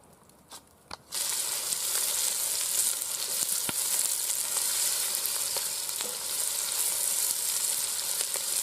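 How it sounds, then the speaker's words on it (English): After a few faint knocks, oil in a Dutch oven over an outdoor campfire bursts into a loud, steady, close sizzle that crackles without a break to the end. "Dutch oven's on the fire now, warming the oil up"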